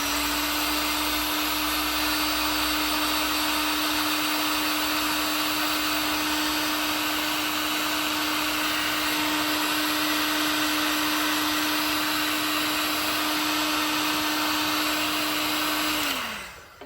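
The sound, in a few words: heat gun shrinking heat shrink tubing on car wiring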